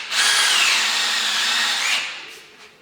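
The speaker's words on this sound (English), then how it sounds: "I first drilled through the oak flooring with just a normal drill bit" A power drill with a standard bit bores through oak flooring, a loud, steady high-pitched whine lasting about two seconds before winding down and trailing off.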